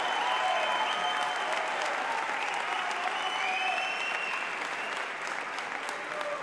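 A crowd at a swearing-in ceremony for Buenos Aires city cabinet ministers gives sustained, dense applause for the incoming justice minister, steady and even throughout with faint voices mixed in.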